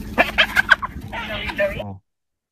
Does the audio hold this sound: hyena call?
yes